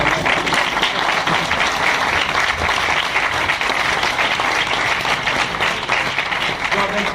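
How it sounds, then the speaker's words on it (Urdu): Sustained applause from a sizable audience fills the room, a dense continuous clatter of many hands clapping at a steady level. "یہاں تو تالی لگا دیں۔"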